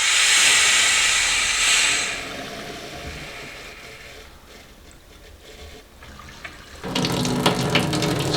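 Water rushes from an under-sink purifier faucet once its valve opens, a loud steady hiss that fades over several seconds and then surges back strongly, with no voices.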